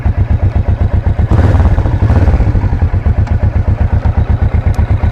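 A Kawasaki Vulcan S parallel-twin motorcycle fitted with a small exhaust valve idles with a loud, even, rapid pulse, briefly blipping the throttle into a fuller rev before settling back to a steady thumping idle.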